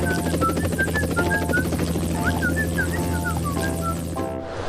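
A helicopter flies with a steady, loud rotor drone and a constant low thrum, alone and unbroken for several seconds before cutting off abruptly.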